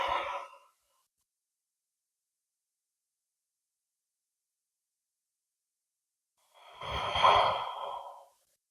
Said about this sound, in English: taking a nice deep inhale here. Nice, long, steady exhale.